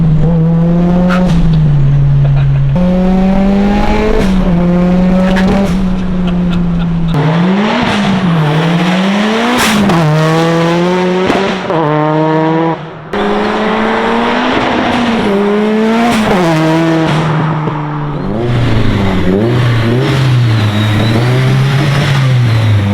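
A modified car engine revs hard, its pitch climbing through repeated acceleration runs and gear changes, loud and close with rasping exhaust and occasional drops between pulls.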